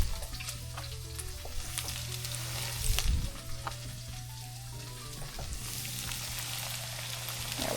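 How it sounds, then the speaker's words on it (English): Okra frying in bacon fat in a pan during a beach fishing catch-and-cook, a steady close sizzle with occasional stirring clatter and a brief louder bump, no voices. "I'm gonna throw a little bit of bacon fat in with my okra, just because I can."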